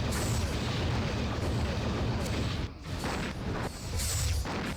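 Enemy weapons fire strikes a starship in the Star Trek Nemesis game, a dense roaring wash of blasts and rumbling impacts, loud throughout with brief dips, over game sound.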